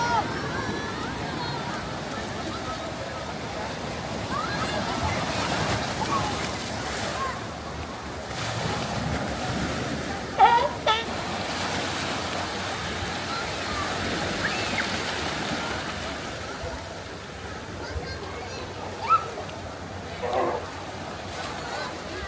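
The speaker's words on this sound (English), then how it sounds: "The waves are coming up." Ocean waves surge and wash against the rocky shore at La Jolla Cove in San Diego, a steady broad roar with a few sharper splashes, heard outdoors with people talking under it.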